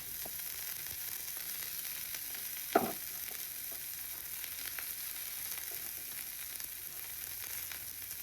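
Onions sizzle and fry in a pan for homemade noodles, a steady soft crackle with one brief clink of utensil partway through and no talking.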